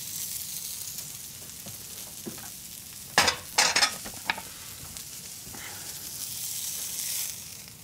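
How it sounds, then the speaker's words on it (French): Pan deglazed with water and a splash of white wine after roasting veal, a burst of loud sizzling and spitting around the middle, then settling back to a low steady hiss in a kitchen. "après la cuisson, je déglace pour récupérer le sucre avec de l'eau et un peu de vin blanc"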